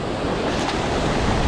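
Ocean surf rushes in on a North Carolina beach at Wrightsville, a loud, close, continuous wash of water mixed with wind buffeting the microphone, with no talking.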